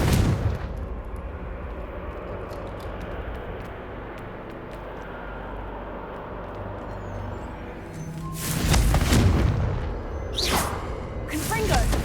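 Confringo fire-blast spell explosions in the Hogwarts Legacy video game: a low rumbling roar through most of the stretch, then heavy booming blasts near the end, loud and close.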